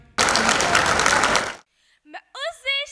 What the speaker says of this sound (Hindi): सो नेक्स्ट पार्टिसिपेंट्स जोरदार तालियों के बीच परी।